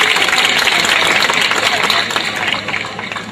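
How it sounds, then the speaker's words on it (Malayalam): Audience at a Malayalam comedy stage show claps in a loud, dense burst of applause that carries for a few seconds and gradually thins out toward the end. "എല്ലാവരും കൈയടിച്ച് പ്രോത്സാഹിപ്പിക്കണം"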